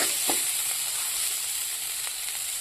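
Shredded cabbage fries in a pan with green chilies and coriander leaves, giving a steady close hiss and sizzle with a few faint stirring clicks and no voices.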